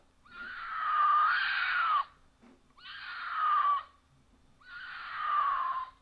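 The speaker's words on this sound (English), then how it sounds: "So, yeah, they just stand out there and scream their cans off. Weird ass cats." Cats scream outside at night in three long, loud, wailing calls separated by short pauses, each rising and falling like a woman screaming, close and alone without talk.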